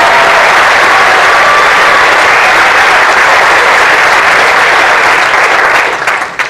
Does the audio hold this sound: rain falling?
no